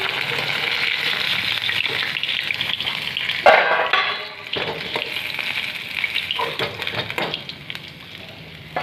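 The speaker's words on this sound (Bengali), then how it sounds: "এবার মাছগুলো আমি ভেজে নিই।" Pabda fish frying in hot oil in a pan, a close, busy crackling sizzle that flares briefly partway through and then settles into a steady spatter.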